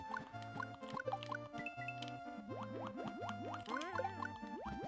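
Underwater level music from the video game Super Mario Maker 2: a gentle looping melody with bouncy bass notes and rising arpeggio runs, with soft bubbly in-game sound effects and no talking.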